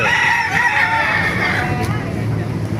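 Roosters crow loudly and close by at a market in Baliuag, Bulacan, their calls overlapping continuously against a busy outdoor background.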